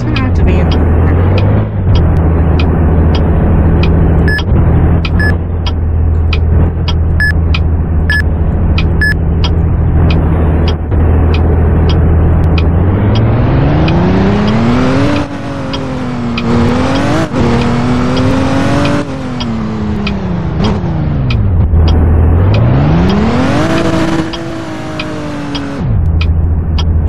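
A car driving in the Roblox game ERLC gives a loud, continuous engine drone that holds steady, then rises and falls in pitch as it revs and shifts, while people talk throughout.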